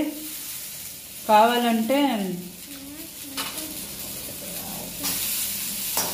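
Onions and garlic fry in a pan for a palak curry, a soft continuous sizzle running under a voice speaking, with a slightly louder burst toward the end.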